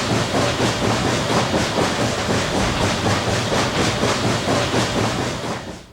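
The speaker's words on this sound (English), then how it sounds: "When you hear a steam engine go by, everybody loves that sound," A steam locomotive rumbles past at White Rock, a loud, steady, dense roar with a regular chuffing beat running throughout, fading slightly at the end.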